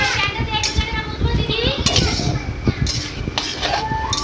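Vegetables with salt, turmeric and chili powder are stirred in a pan for a Bengali home-cooked dish, giving scraping and clinking of a utensil against the pan throughout, with a voice and talk faintly in the background.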